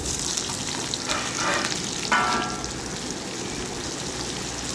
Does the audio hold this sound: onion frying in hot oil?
yes